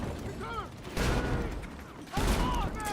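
Grenade blasts in Battlefield 6 on the Hagental Base map, two loud booming bursts with lingering rumble and debris, amid other gameplay noise and faint voices.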